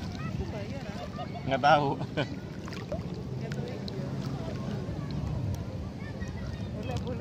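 Low droning rumble of a motor boat on the sea at Nambo Beach, steady and moderately near beneath wind noise, with people talking over it.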